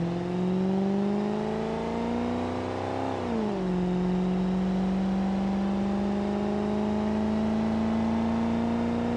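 A car in a video game accelerates through a 0 to 60 test, its engine tone climbing steadily, dipping briefly at a gear change, then rising again in a loud continuous drone.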